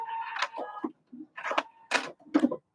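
A sewing machine locks the stitch at the end of a seam on a cinch bag project, with several short mechanical bursts of rapid ticking separated by brief pauses, close and clear.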